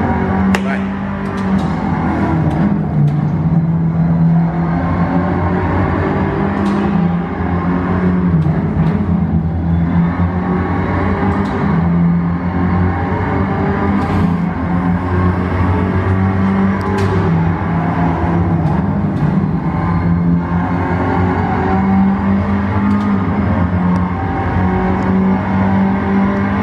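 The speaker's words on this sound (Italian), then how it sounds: "tu guida e sentiamo il rombo del motore adesso" A motorcycle engine roars steadily throughout a ride on the roads of Puglia, a sustained loud drone with slight rises and falls in pitch and occasional wind buffeting, heard alone with no talk.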